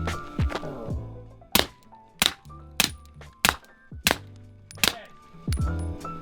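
SuperVel ammunition fired suppressed into pumpkin pies on plates: seven sharp, fairly quiet cracks spaced about half a second to a second apart, each with a quick thwack of impact, over a faint low background hum.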